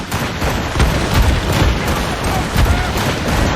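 Ship cannons fire in Assassin's Creed Rogue naval combat, heavy booms repeating every second or so over a loud, constant roar of sea and battle noise.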